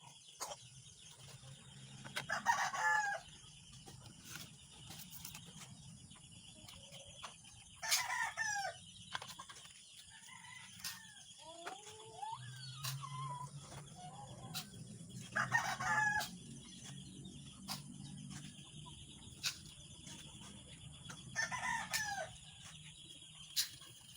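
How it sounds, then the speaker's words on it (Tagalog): Roosters crow repeatedly at intervals while chickens cluck and murmur softly nearby, with a faint steady background whine. "So papakain na natin yung ating manok."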